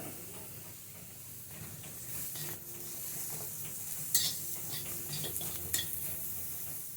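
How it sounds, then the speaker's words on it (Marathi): Raw onion being stirred and sautéed in a pan for mutton curry, a steady soft sizzle and hiss with occasional scraping clinks of a spoon against the metal, close and continuous with no talking. "म्हणून आधी कच्चाच कांदा परतून घ्यायचा."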